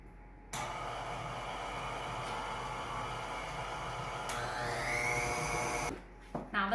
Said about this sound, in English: now we're going to use our dough hook to mix this until a nice soft dough is formed